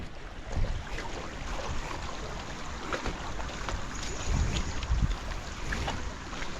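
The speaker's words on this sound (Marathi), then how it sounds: "पाण्याचा प्रवाह जोरात आहे ना त्यामुळं तो वाहून वाहून चालला आहे" A fast, strong stream current rushes past at a rainy-season picnic spot in Palghar, a steady turbulent water noise with occasional low thumps and splashes, fairly near and unbroken by talk.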